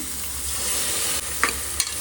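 Onions sizzle and fry in a pan for ghee rice, a steady loud hiss with a couple of short stirring scrapes near the end.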